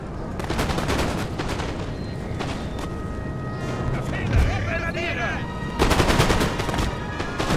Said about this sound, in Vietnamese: Quân bên này sắp chuẩn bị bắn nhau.